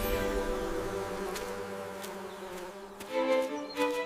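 A steady buzzing of bees or similar insects hums continuously, with tonal layers and a few louder swells toward the end.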